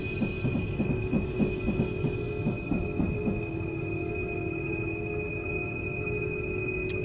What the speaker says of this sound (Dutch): Ik hoor nog een trein in de verte.